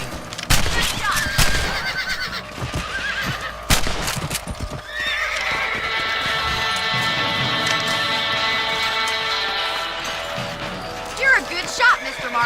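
Horse in the Red Dead Redemption video game whinnies and snorts amid clip-clop hooves, with sharp gunshot-like cracks early on and a long sustained neigh in the middle, fairly close.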